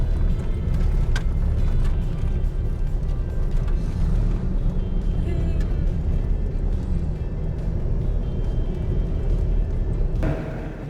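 A vehicle travels a rough, bumpy outback dirt road toward Dalhousie Springs, a continuous loud low rumble and road roar from inside the cabin with scattered rattles, steady for the whole stretch and no talking.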